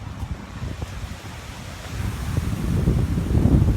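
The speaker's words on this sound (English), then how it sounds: "Real windy here in Ellensburg." Strong wind blows outdoors at night in Ellensburg, a gusty roar and rumble against the microphone that builds steadily louder toward the end.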